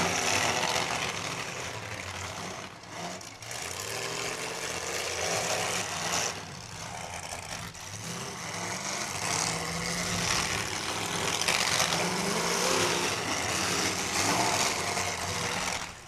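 Demolition derby car engine running at an outdoor event in Mobridge, South Dakota, a steady loud rumble with revving surges and metallic clatter amid crowd and arena noise.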